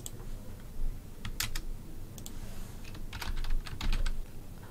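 Fingers type on a computer keyboard while someone enters information into an employee time card in a browser, with quick irregular key clicks in short bursts, quiet and close, no talking.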